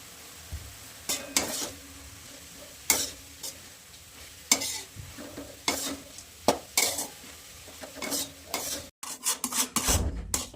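Safflower greens being stirred in a pan with crushed peanuts in a home kitchen, giving a steady run of scraping spatula strokes against the pan over a soft sizzle, loud and close, with no talking.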